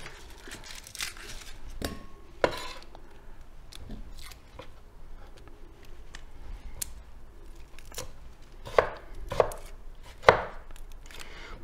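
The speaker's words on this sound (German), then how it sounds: "Einfach ein bisschen klein schneiden auch." Garlic is chopped with a knife on a cutting board in a steady series of crisp, close taps and thuds, some spaced apart and a few sharper strikes near the end.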